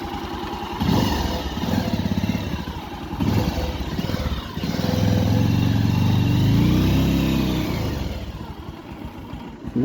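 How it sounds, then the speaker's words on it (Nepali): Motorcycle riding onto a suspension bridge on a long night ride, its engine loud and close, revving and rising in pitch, with rattling and clatter from the bridge deck beneath it. "जिन्दगीको फर्स्ट टाइम झुलङ्गे पुलमा बाइक हाल्यो यार"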